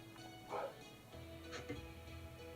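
Dog barking in the background behind game sounds during a livestream, with a couple of short, muffled barks standing out from a steady hum.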